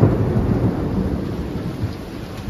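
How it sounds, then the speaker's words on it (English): A deep rumble of thunder from a lightning storm rolls on continuously with rain falling, low and heavy, without any voices. "Hear that thunder?"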